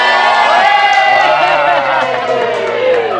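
Supporters in a television studio audience at a political debate show cheer and shout together in a loud, sustained burst of overlapping voices and whoops.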